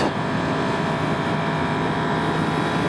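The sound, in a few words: 2021 Yamaha R1 motorcycle cross-plane crank engine around 6,000 RPM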